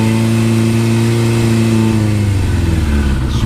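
A Suzuki RF motorcycle engine, choke on, runs steadily and loudly right after a cold winter start-up, its harmonic drone rising in pitch as the throttle is blipped near the end.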